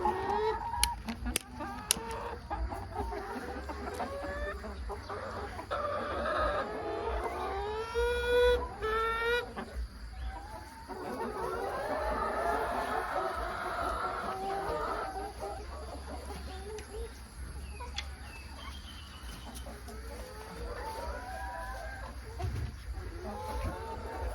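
Young laying hens just beginning to lay cluck and murmur in a chicken coop, with scattered squawks and clucks over a low background hum, moderately distant and soft.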